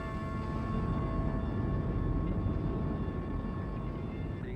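Steady, loud broadband roar of a Boeing 747 airliner, like jet engine noise heard from inside or near the aircraft, continuous and even throughout with no speech.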